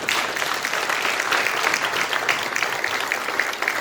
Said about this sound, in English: Karan, a round of applause, everybody